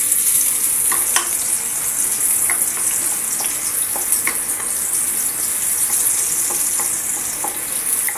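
Onions sizzle and fry in a hot pan as the base for sopas, a steady close crackling hiss with scattered sharp pops and occasional stirring, with no talk over it.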